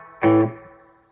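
A single electric guitar chord rings out through delay, slapback and amp reverb, a sharp onset that swells briefly, then tails off slowly into a fading echo.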